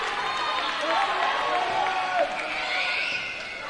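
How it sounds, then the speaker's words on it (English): A volleyball crowd at the NCCAA national championship in the Davis Fieldhouse roars and cheers at set point, a broad swell of voices that peaks briefly and fades, with announcer talk over it. "Crowd is on their feet here in the Davis Fieldhouse"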